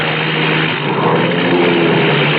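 Radio-drama effect of an overloaded old propeller plane with a weak undercarriage: a loud, steady, droning engine roar that fills the whole stretch without a break.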